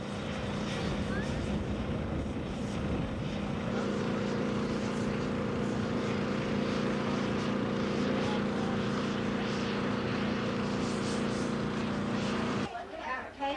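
Steady droning engine noise aboard a vessel's flight deck off downtown Corpus Christi, Port Aransas, loud and continuous with faint talk beneath, cutting off abruptly near the end.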